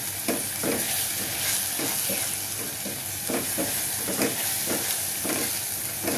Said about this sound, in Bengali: আমি আর একটু কষাবো, তারপরে মাছগুলো দিয়ে দিব।